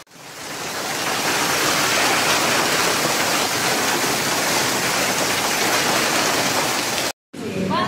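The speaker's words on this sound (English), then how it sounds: "the streets quickly turned into water channels." Floodwater rushes loudly and steadily through city streets after a powerful hailstorm in Italy, a dense continuous roar like a torrent that cuts off abruptly near the end.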